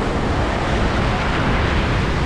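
Sea waves at Playa Mamitas beach in Playa del Carmen wash in as a dense, steady roar of surf mixed with wind buffeting, loud and close for a couple of seconds, with no clear talk.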